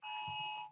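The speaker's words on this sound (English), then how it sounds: "Sounds like my phone just went off." A phone alarm sounds a steady two-tone electronic beep, one sustained, fairly loud burst under a second long with no speech.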